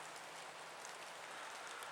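Steady, fine rain falls on cedar trees in woods as a soft, continuous hiss of drops pattering on branches and foliage, even and moderately faint with no voices.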